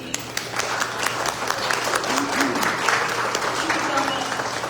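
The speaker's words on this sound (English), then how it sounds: "Will y'all raise your hands so we can give you a round of applause?" Audience in a convention center room applauding a team, a sustained rattle of many hands clapping at steady volume with some crowd murmur underneath.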